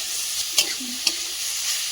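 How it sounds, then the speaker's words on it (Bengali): Steady sizzle of vegetables, beetroot and carrot, frying in a pan, broken by two sharp scrapes of a spoon stirring the food. "খুব ভালো করে কিন্তু মিশিয়ে ভাজা ভাজা করে নেব।"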